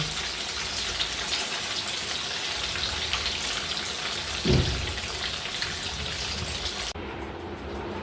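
Paneer sizzles steadily in hot oil, fried a few pieces at a time, with a dense, rain-like crackle, a brief low thump partway through, and then a quieter hiss near the end.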